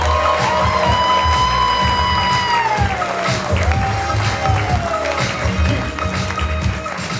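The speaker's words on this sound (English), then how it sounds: "Big round of applause" An audience at a comedy festival claps and cheers for comedian Ramon Rivas, steady dense applause running the whole time alongside a sustained tonal sound.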